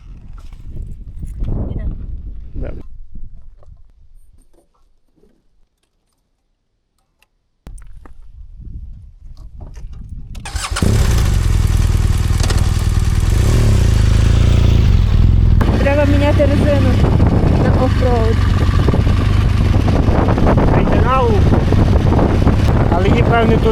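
Motorcycle on a road trip in Canada near Longview: after a stretch of talk and a near-silent pause, the engine starts and a loud, steady roar of riding with rushing wind follows, with voices speaking in places.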